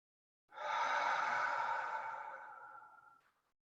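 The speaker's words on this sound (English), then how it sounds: "A deep inhale. Complete exhale." A single long, deep breath during a mindfulness meditation, a smooth airy exhale that swells quickly and then fades gradually over about three seconds, heard close and alone in a quiet room.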